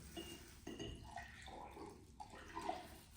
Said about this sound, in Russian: наливай воду